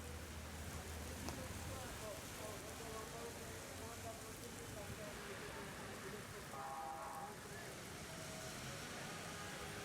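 Rain falls across Dhaka city after an intense heatwave, a dense constant wash of drops with faint street noise and murmuring voices blended underneath.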